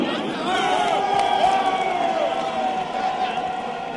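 A stadium crowd at a Uganda Cranes versus Liberia football match roars and applauds for George Weah, a loud, sustained swell of many voices and clapping that rises in the middle and stays broad.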